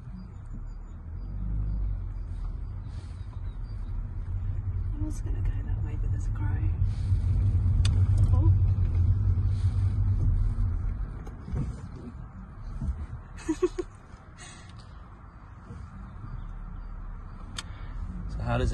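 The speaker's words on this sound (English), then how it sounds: "So how does it feel to be driving, Millie?" A car being driven, heard as a steady low engine and road rumble that swells in the middle and then eases, with occasional brief knocks and voices toward the end.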